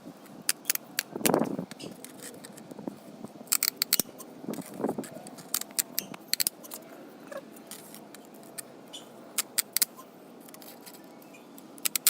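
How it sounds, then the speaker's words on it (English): Hedge clippers snip through a sushi roll mat of bamboo slats, a series of sharp, close clicks and crunches at irregular intervals with quiet gaps between cuts. "For this DIY, you will need a sushi roll mat and something to cut with. In this video, I used hedge clippers."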